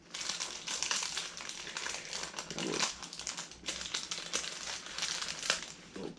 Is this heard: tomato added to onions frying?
no